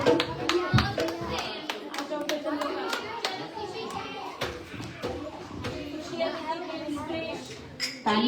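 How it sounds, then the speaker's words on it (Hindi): An audience claps at a church Christmas celebration, with sharp, uneven, fairly close hand claps and children's voices and talk mixed in. "तालियां बजाएं भाई।"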